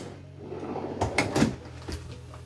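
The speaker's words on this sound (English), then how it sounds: "on the opposite side, this door also slides." Sliding cabinet door inside a Paradigm 395DS fifth-wheel RV, a short run of close rolling and knocking sounds, quiet and alone, ending in a small bump.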